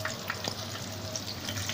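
Cauliflower frying in hot oil, a steady, fairly quiet sizzle and crackle with small pops, heard alone.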